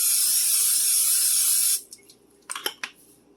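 A can of cooking spray hisses steadily and loudly into a frying pan for under two seconds, then stops, followed by a few faint clicks and taps.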